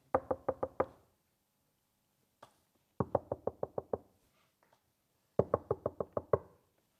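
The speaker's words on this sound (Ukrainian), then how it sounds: "Коли хтось стукає в вікно." Knocking on a window comes in three quick bursts of about five to six sharp raps each, close and clear, separated by silence.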